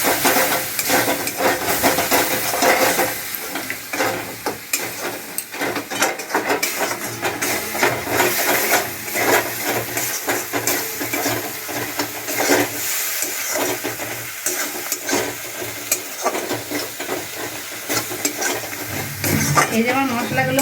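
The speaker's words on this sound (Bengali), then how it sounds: "মশলাগুলো একটু ভালোভাবে আমি একটু কষে নেব জল দিয়ে।" Spices being fried down with a splash of water and stirred in a pan for a drumstick curry, a loud continuous sizzle and steamy hiss with repeated scraping of the spoon against the pan and no talking.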